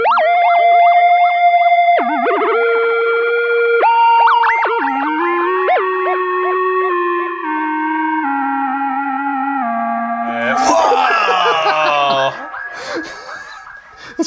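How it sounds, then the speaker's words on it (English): A sung melody converted by a Korg microKORG 2 into a buzzy synthesizer tone, stepping between held pitches, then breaking into garbled, glitchy warbles toward the end. "it's converting the pitch into a synth sound"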